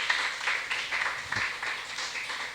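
A church congregation applauds during a service, a steady mass of many hands clapping at moderate loudness that keeps going evenly throughout.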